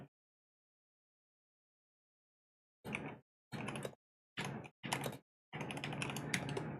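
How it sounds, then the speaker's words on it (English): Clacking on a computer keyboard, several short bursts of typing separated by brief pauses after a long silence, then a steadier run of keystrokes, close and clear with no talk. "if you hear me typing, that's why"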